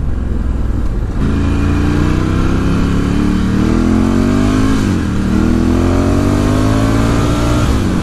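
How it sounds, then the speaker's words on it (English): A 2018 Ducati Scrambler 1100 Special motorcycle pulls steadily in fifth gear, its engine note rising smoothly and loud and close throughout, with a brief dip near the end before climbing again. No talking. "As it pulls in fifth gear, it just pulls perfectly fine."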